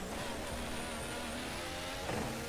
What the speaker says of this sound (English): You can hear the car bouncing against the tarmac.